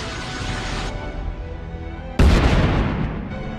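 Cherry bomb explosions in Plants vs Zombies, a sustained rumble followed by one sudden loud booming blast that decays with a rough tail.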